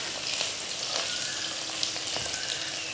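Small onions sautéing in oil with garlic, chilli and curry leaves in a clay pot, a steady bright sizzle crackling throughout, close and fairly loud with no talking.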